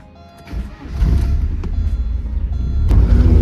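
A Porsche 944's engine swells from a low idle into a loud, close, rumbling pull as the car moves off, growing steadily throughout the short stretch.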